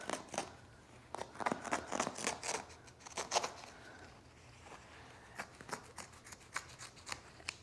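Scissors cut through excess upholstery fabric during a farmhouse dining table makeover, a close series of crisp snipping strokes in irregular clusters with brief pauses and faint fabric rustling.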